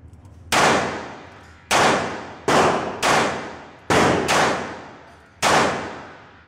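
A compact .357 handgun fires seven sharp, loud shots at irregular intervals, each crack decaying quickly with echo, no talking.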